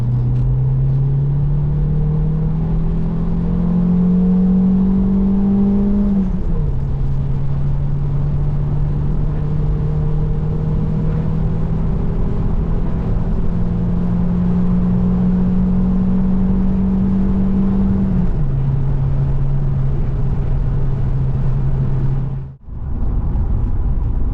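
Cavalier Diplomat 2.0i car driving at full power on the road, a loud steady engine drone whose pitch climbs and drops back at gear changes, with constant road rumble and a brief dropout near the end.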